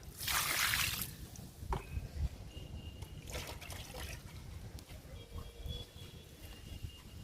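Homemade liquid plant fertilizer made from kitchen waste, grass and tea decoction is poured onto a potted plant, producing a soft trickle and splash close by with a brief louder gush at the start.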